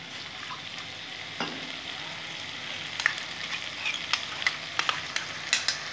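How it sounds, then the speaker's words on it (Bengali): Spices and turmeric frying in a pan for a Bengali egg curry, with a steady soft sizzle and scraping stir strokes that grow more frequent and louder toward the end. "ভালো করে আমি কষে নেব।"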